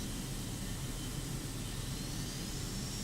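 A jet aircraft engine in a flight video game throttles up during a carrier launch, giving a steady, loud, broadband roar that holds constant without talk.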